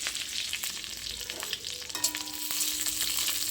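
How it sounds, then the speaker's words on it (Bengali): Radish, onion and chilli sizzle and crackle in a hot pan, a steady frying hiss with a few stirring scrapes and clinks. "এখানে মূলো ভাজা করব দেখো একটু পেঁয়াজ দিলাম"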